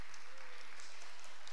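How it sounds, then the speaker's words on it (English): Steady, dense applause from an audience at a high school spring dance showcase, a continuous wash of many hands clapping at even loudness for a brief stretch. "go ahead and clap"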